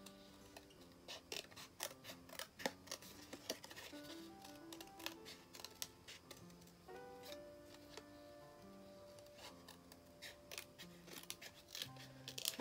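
Small precision scissors cut decorated paper for a name, heard as close, rapid, irregular snips and creaks that come in bursts throughout, with no talking.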